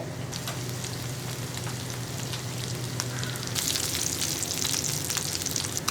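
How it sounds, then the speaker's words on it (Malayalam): Sardines coated in rice flour sizzle and crackle in hot oil in a pan after being turned over, a steady dense frying hiss with scattered pops that grows brighter and louder partway through. "ഇപ്പോൾ നമ്മൾ മീനെല്ലാം തിരിച്ചിട്ടുണ്ട് ഇനി ഈ സൈഡും കൂടി ഒന്ന് കുക്കായി വരട്ടെ"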